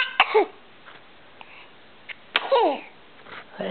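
A small child sneezes twice at close range, two sharp bursts separated by a pause, in a quiet indoor room with faint babbling between them.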